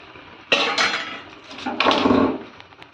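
Boiled taro greens tipped out of a metal pot into another vessel, with a couple of clanking knocks of cookware and a soft wet slide, loud and close with no talk.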